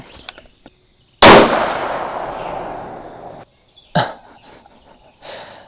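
A .308 rifle firing 168-grain Speer Gold Dot handloads with IMR 4064 powder at an outdoor range: one sharp, loud shot with a long rolling echo, then a softer pop and faint clicks in a quiet background.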